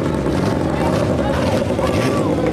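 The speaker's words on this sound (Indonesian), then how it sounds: "suara dari perahu balap tersebut sangatlah menggelegar" Loud continuous roar of a Thai racing boat powered by a sports car engine, mixed with rushing wind and water, steady and close, with a voice faintly underneath.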